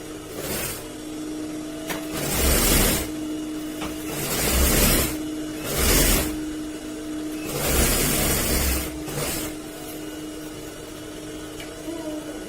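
A sewing machine stitches a blouse in repeated bursts of whirring motor noise, each a second or two long and separated by short pauses, close and fairly loud.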